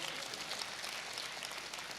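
An audience at a Hindi comic poetry gathering (kavi sammelan) gives continuous, even applause, a soft hiss-like wash of many hands clapping with no voices above it.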